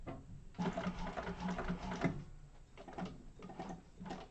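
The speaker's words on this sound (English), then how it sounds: "That squeaky sound you hear, that's when you know I'm actually using my knee lift" A squeaky knee lift on a sewing machine raises the walking foot during a quilting class, giving soft mechanical creaks and clunks in a few short bursts close by.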